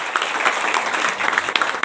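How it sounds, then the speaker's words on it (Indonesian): A church congregation applauds with dense, lively clapping that holds steady for a couple of seconds. "Kasih tepuk tangan yang paling meriah buat Tuhan Yesus."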